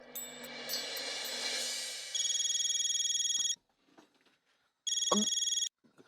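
Telephone ringing while a call is placed, a dialing tone giving way to two loud electronic ring bursts separated by a short gap, with no talk.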